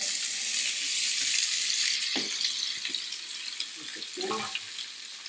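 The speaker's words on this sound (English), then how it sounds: "the mustard is starting to split. I can see it moving. Let's hear it." Mustard seeds crackle and spit in hot oil in a South Indian Telugu kitchen, a steady bright sizzle broken by a few sharper pops, with no talk.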